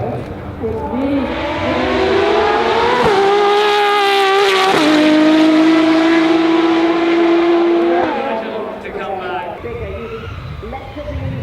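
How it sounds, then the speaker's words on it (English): A Pagani Huayra R Evo with its Mercedes-developed V12 runs at the 2025 Goodwood Festival of Speed, screaming close by as it climbs through the revs, holds a loud, high wail, then eases off as it passes. "Of Pagani's own Mercedes-developed V12, and it sounds wonderful."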